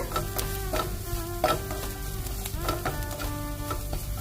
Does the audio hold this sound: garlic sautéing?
yes